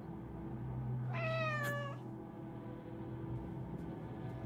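A cat in the video game As Dusk Falls gives a single clear, rising meow lasting about a second, heard close over a low steady hum, with no talking.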